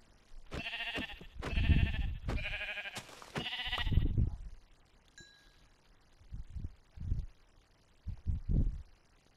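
Sheep in the Minecraft video game bleat several times in quick succession, loud and close, followed by a few softer, shorter low thuds after a pause.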